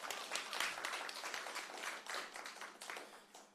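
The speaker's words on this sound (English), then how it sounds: "Yes, you can give that a round of applause." At a panel discussion, an audience applauds the moderator with quiet, distant clapping from many hands, a soft, continuous patter that tapers slightly toward the end.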